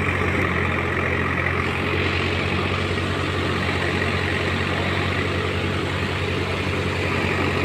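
A farm tractor engine runs at a steady, even rumble close by, continuous throughout with no voices.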